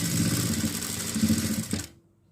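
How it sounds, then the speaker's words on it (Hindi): Sewing machine stitching the hem of a salwar: a steady fast mechanical whir and clatter up close, running continuously before stopping abruptly near the end, no talk. "यहाँ से आपको जो है वो सिलाई लगानी है और उसको 3-4 बार पक्का करना है यहाँ पर।"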